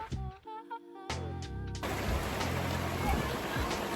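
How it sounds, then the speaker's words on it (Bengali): Rain starts by the Balu (Sand) River: after a short burst of tonal, musical sound, a steady broadband patter of rainfall takes over and holds at an even level. "খেতে বসলাম এখান দিয়ে বৃষ্টিও শুরু হয়ে গেল"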